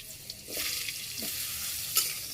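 Pieces of mango drop into hot oil tempered with mustard seeds, a soft, fairly quiet sizzle that swells after a moment, with a brief stir and a light clink near the end.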